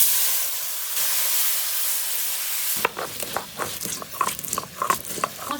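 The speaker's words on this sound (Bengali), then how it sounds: "মুরগি ভাজুন।" Chicken fries in a hot wok (kadai) in a Bengali village kitchen, first with a steady loud sizzle and hiss, then with quick irregular scraping and clattering as it is stirred. No one speaks.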